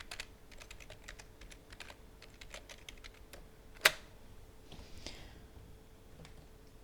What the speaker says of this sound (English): Then we need to type password that we can remember it. And retype it again.